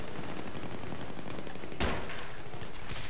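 A JNG 90 bolt-action sniper rifle fires once in Battlefield 3, a single loud crack over a constant dense din of distant battlefield gunfire.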